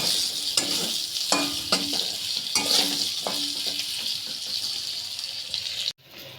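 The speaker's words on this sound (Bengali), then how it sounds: "নুন আর একটু হলুদ দেবো, দিয়ে লাল লাল করে আলুগুলো ভেজে তুলে নেবো আগে" Potatoes with salt and turmeric fry in hot oil in a pan, a steady close sizzle broken by stirring scrapes, with no talking before it cuts off abruptly.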